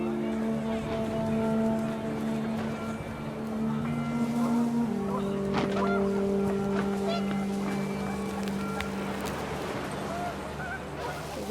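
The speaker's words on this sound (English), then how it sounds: "The wind picked up, and panicked geese appeared and quickly went." Panicked geese honking in the game What Remains of Edith Finch, several quick calls rising over a steady windy, rumbling backdrop with faint voice-like sounds mixed in.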